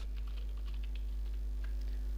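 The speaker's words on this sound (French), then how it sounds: "je clique en même temps sur la touche contrôle de mon clavier" Light clicks of a computer keyboard, a few soft taps close by over a steady low electrical hum.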